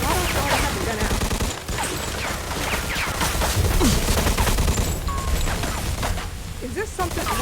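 Rapid bursts of gunfire from a Mafia 2: Definitive Edition shootout crackle through the game, dense and continuous, with a voice talking over it.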